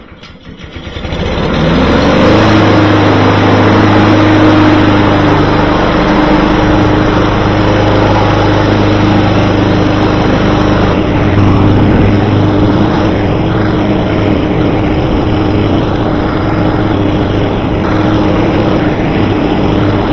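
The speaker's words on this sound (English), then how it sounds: "now we're going to take this out and we're going to run it for about 5 or 10 minutes" A Honda lawn mower engine with a fault that stops it staying running starts up and runs at a loud, steady, close drone with no pauses.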